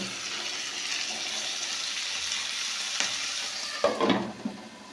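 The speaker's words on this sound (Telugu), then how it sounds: "ఇప్పుడు మీడియం ఫ్లేమ్లో ఈ విధంగా బాగా మగ్గనివ్వండి" Tomatoes cook down in a pan over a medium flame for tomato pickle, giving a steady, moderate sizzle throughout, with a brief stirring scrape and bubbling near the end.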